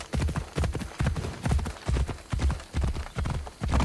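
A horse's hooves clip-clop in Assassin's Creed Odyssey, a steady, loud, close rhythm of paired hoofbeats that continues without pause and with no talk over it.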